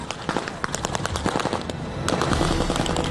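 Rapid, uneven bursts of blank gunfire crackle at a war re-enactment battle, a mix of Civil War and Vietnam War scenes, with sharp reports close by and more distant shots layered beneath, growing slightly denser toward the end.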